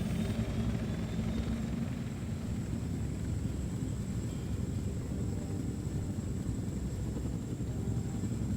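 A steady, rumbling helicopter drone with rotor chop in the video game Wolfenstein: The New Order continues at an even level throughout, with no voices.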